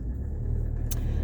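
Constant low rumble inside a car while driving, road and engine noise steady and close, with one brief sharp tick near the end and no voices.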